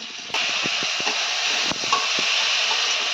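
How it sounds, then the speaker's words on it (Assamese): Onions are added to a hot pan and fry with a loud, steady sizzle and hiss, broken by a few soft clicks of stirring and a sharp burst as they hit the oil. "তো ইয়াত পিঁয়াজখিনি দি দিলোঁ।"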